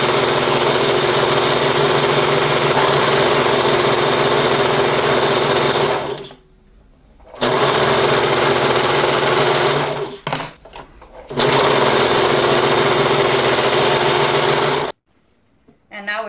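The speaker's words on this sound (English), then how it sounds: "So you want to take your edges off the facing and we just overlock it" An overlocker sewing machine finishes the raw edges of a blouse facing with a loud, steady mechanical whir, running in long bursts broken by two short pauses and stopping near the end.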